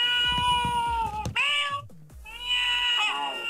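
A musical birthday card plays loud, repeated electronic cat meows in a steady sequence of drawn-out, whiny calls heard close up.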